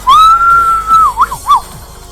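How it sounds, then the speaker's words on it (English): A loud, close two-finger whistle: one long sustained shrill note followed by two short rising-falling chirps. "Then he raises 2 fingers to his mouth. Oh, he's whistling."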